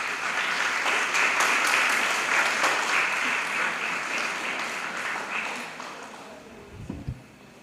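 An audience at a school graduation ceremony applauds as a speaker is welcomed to the podium; the dense clapping is steady for several seconds, then thins and dies away near the end.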